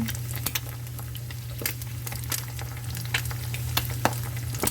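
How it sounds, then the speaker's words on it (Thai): Beaten egg frying in a pan, a steady sizzle under a low continuous hum, broken by sharp spatula clicks and scrapes at irregular intervals. "เจียวไข่ก่อนนะคะ"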